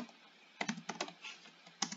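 Close, quiet typing on a computer keyboard comes in short clustered bursts of crisp key clicks, separated by brief pauses, with a final pair of taps near the end.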